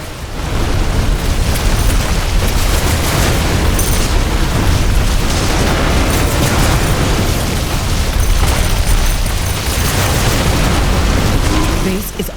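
Repeated booms of buildings exploding during an attack on a base in The Riftbreaker, a dense, continuous roar of blasts and bursts with a game voice over it.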